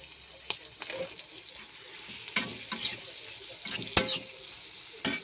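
Curry leaves, ginger garlic paste, coriander and cumin powders, garam masala, chilli powder and salt frying in oil for meal maker rice, an uneven crackling sizzle with intermittent spoon clinks and scrapes.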